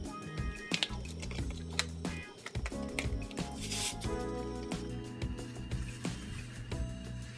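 Soft wet plops and squishy drips as frozen spinach is dropped into a pot of heating water, with light splashing and gurgling, close up and fairly quiet.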